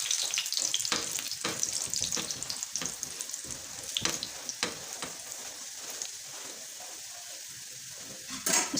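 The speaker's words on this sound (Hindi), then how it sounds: "इस तरह घुमा के पकाना है ताकि सारी तरफ से बराबर बन जाए पराठा" A sarson saag paratha cooks in a pan over low-to-medium heat, giving a steady close sizzle with scattered sharper crackles and pops as it is turned, and no talking.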